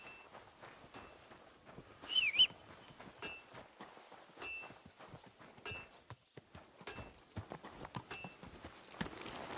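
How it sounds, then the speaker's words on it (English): Horse hooves clip-clopping at a steady walk in the video game Kingdom Come: Deliverance 2, a close, even rhythm of hoof strikes with a brief whinny early on. "Call my horse."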